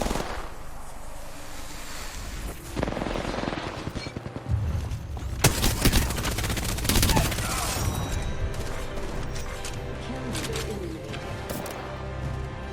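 Gunfire in the battle royale game Apex Legends: a dense, chaotic stretch of overlapping shots and bursts, loud and sustained, with brief sharp cracks standing out midway through.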